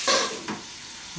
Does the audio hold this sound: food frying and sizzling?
yes